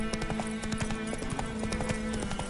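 A horse galloping in the video game Witcher 3, rapid rhythmic hoofbeats close and loud, continuing throughout.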